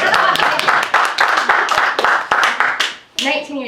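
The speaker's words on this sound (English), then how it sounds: "Please clap, I love it." After a poem reading, a small audience claps close by. The irregular hand claps run for about three seconds and stop suddenly, and then a voice begins to speak.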